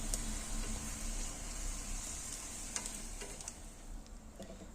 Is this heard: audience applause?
no